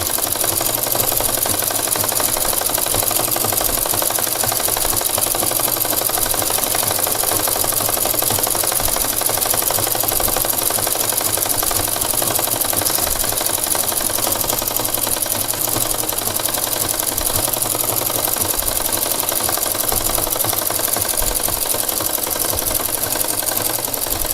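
A sewing machine runs steadily, stitching the gota border onto a petticoat: a fast, continuous mechanical whir and rattle, close and loud for the whole stretch with no pauses or voices.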